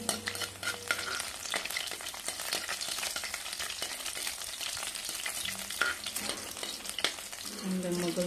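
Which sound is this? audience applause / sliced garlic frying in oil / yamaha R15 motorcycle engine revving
sliced garlic frying in oil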